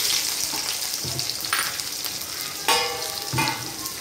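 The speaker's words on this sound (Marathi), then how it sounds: "थोडं कमी गॅसवर भाजायचा हा लसूण, तळून घ्यायचा आहे तेलामध्ये" Crushed garlic hits hot oil in a pan and fries with a steady close sizzle, with a few louder crackling bursts and stirring clinks along the way, and no voices.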